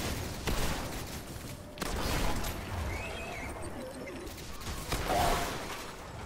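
Shotgun blasts in the video game ZOE, fought against harpies and Minotaurs on the Heroic Black Garden stage: a few sharp, spaced booming shots over a murky, rumbling game backdrop.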